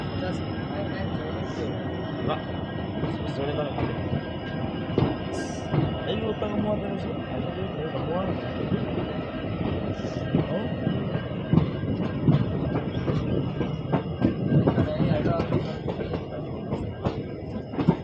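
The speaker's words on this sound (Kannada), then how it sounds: "ಈಗ ಮೇನ್ ಲೂಪ್ ಲೈನಿಂದ ಮೇನ್ ಲೈನಿಗೆ ಹೋಗ್ತದೆ ಗಾಡಿ" Inside a sleeper coach of the Basava Express between Bagalkot and Mysore, a continuous rumble with rhythmic clickety-clack and occasional wheel squeal as the train crosses from the loop line onto the main line, with faint voices underneath.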